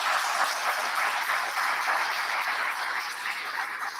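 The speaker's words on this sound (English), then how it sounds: "Please give them a hand of applause." Audience applause at a science of survivorship symposium, a steady, even patter of many hands clapping together at moderate loudness, holding without a break through the whole stretch with no voices over it.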